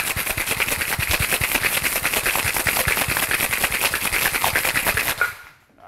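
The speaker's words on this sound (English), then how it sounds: "put it in our tin, add it to our pitcher," Ice rattled hard inside a metal cocktail shaker tin for a tropical La Florida drink, a dense, rapid, loud rhythmic clatter held steady for about five seconds before stopping abruptly.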